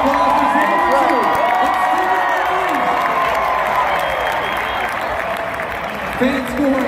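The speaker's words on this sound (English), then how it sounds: "Fans, how about a big round of applause for Steven Ruffin?" Loud stadium applause and cheering at a Monster Jam show in Washington DC, with clapping, whoops and crowd roar sustained throughout, and voices shouting over the din.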